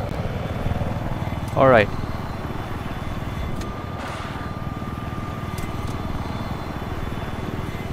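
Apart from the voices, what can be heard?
attack helicopter in the video game Battlefield 4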